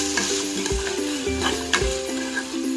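Onion and tomato fry in a pan with rock salt. Repeated scraping strokes of a spoon and low knocks run over a continuous sizzle, close and fairly loud.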